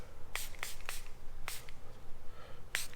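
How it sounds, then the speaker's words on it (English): Spray bottle misting water onto the B-pillar of a 2021 Ford F150 before fitting black paint protection film: several short, close hissing squirts in an irregular rhythm, with the last one a little longer, over quiet background. "So now what we're going to do is wet the pillar."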